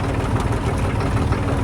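A tractor engine idles steadily with a low, continuous rumble and faint rhythmic pulsing, close and loud throughout with no talk; the machine has a worn clutch and a suspected bad seal awaiting repair.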